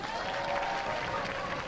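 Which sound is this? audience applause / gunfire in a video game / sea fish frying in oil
audience applause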